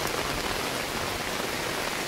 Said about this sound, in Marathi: हा पाऊस दिसतोय.